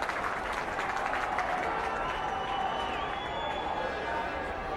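Spectators at a 2007/2008 LSJC rugby final clap as a player comes off, a steady moderate wash of applause with faint crowd murmur mixed in.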